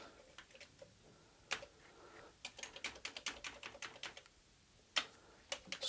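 Keys on a Commodore 128 keyboard pressed one after another during testing after repair, a run of close, crisp plastic clicks in irregular bursts with brief pauses.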